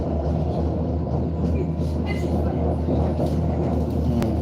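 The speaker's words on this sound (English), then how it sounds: "We're going for a tram ride." A tram running from Dulwich Hill toward Sydney city gives a steady rolling rumble with rattling and faint squeals, heard from aboard with people talking quietly underneath.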